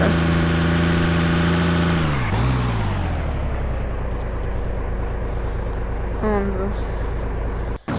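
A Toyota Tacoma engine in a video game drones loudly with harmonic tones that drop sharply around the middle, then keeps running rough and steady, with a brief rising whine near the end.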